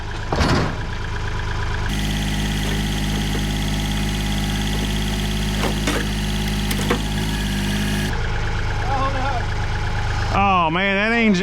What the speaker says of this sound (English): Oh man, that engine ain't no good now.